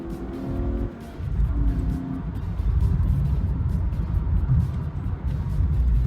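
A 1998 BMW E36 323ti accelerating hard, engine note rising and dropping between gear changes, loud and close with steady road roar.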